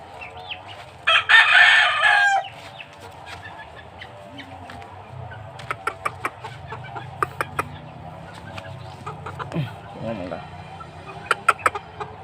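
Sweater Kelso gamefowl roosters, about three months old, at a small breeder's yard in Bohol: one loud close crow early on, then fainter crows and clucks scattered over steady background noise.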